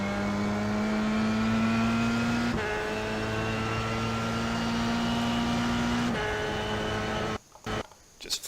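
A Formula 3 car at full throttle at Suzuka in a racing video game, with a steady high engine whine climbing in pitch through two upshifts, loud and continuous before cutting out near the end.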